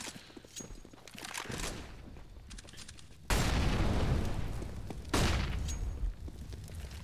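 A flashbang grenade goes off in a professional Counter-Strike match on the Mirage map, heard as two sudden loud bursts of broad noise that ring out over busy in-game background sounds.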